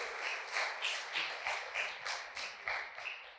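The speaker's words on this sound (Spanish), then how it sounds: "Un aplauso para guitarrista nuevo." Scattered, fairly quiet applause from a church congregation welcoming a new guitarist, rhythmic clapping with regular beats rather than a dense roar, heard alone.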